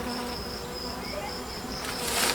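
Honey bees from a freshly caught swarm buzz close by in a steady, dense drone, with a few individual bees whining past and the hum swelling slightly near the end.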